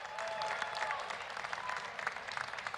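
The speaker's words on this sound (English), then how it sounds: "We got to clap on that one" An audience at a charity heart run and walk event bursts into steady, dense applause, a continuous wash of many hands clapping at moderate distance with no voices over it.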